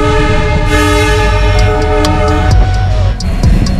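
A train at Guwahati railway station rumbles loud and close with a sustained, harmonically rich horn blast, then clacking wheels and metallic clanks take over near the end.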